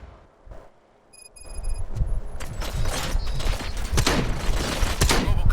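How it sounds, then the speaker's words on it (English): Gunfire breaks out in the Robocop Rogue City video game: after a quiet moment with some high electronic tones, a dense run of sharp shots and impacts follows, loud and close, repeating irregularly through the rest of the burst. "Gunshots? What's going on?"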